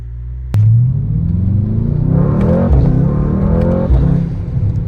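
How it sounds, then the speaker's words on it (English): Engine of a 650 hp Mercedes-AMG GT63 S heard from inside the cabin with windows up, a deep rumbling drone that swells as the car accelerates, with rising gear-by-gear pitch sweeps and a sharp click at the start. "It's like straight engine noise now."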